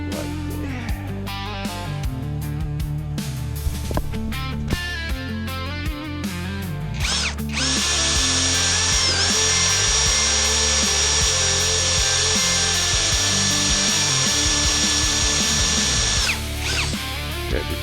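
A power drill bores a hole in wood with a blunt bit, first in short bursts, then running as a loud, steady whine for about nine seconds before stopping.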